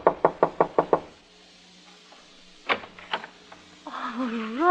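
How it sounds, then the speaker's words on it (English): Six quick, evenly spaced knocks on an apartment door, loud and close, followed by a pause, a couple of fainter thumps and a voice starting to speak. "I knocked at the door."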